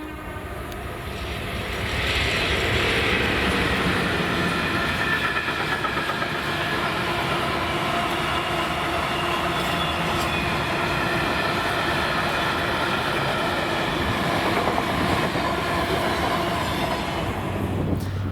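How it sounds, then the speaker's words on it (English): Class 56 diesel locomotive 56113 passes hauling engineering train 6K20 from Lanark Junction to Millerhill, a loud sustained rumble of engine and wagons rolling by with rhythmic wheel clatter, faint squeal and a horn note. "the first class 56 to go on the Carstairs Engineer Works with 56113 working 6K20, the 1344 Lanark Junction to Millerhill"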